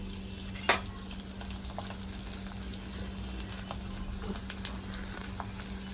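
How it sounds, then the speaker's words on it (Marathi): Sabudana and potato chakli frying in hot oil, a continuous close sizzle and bubbling with small pops, one sharper crackle near the start, no one talking. "साबू तांदूळ बटाट्याची चकली तळून घेते मी"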